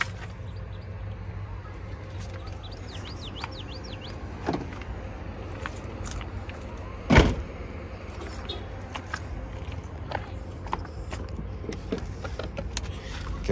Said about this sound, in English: you can also bring up and bring down the third row seats